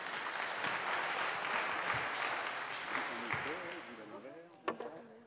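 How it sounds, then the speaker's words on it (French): Sustained audience applause fills a conference hall during a round-table event, loud and dense throughout, with voices starting to talk over it toward the end as it thins out. "Merci à vous sous les applaudissements nourris de cette salle."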